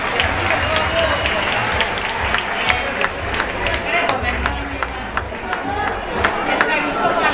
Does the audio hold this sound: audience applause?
yes